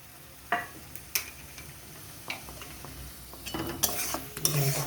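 Tomato chutney with garlic, coriander and mustard is stir-fried in a pan, with soft sizzling under intermittent sharp scrapes and clinks of a spoon stirring, growing busier toward the end.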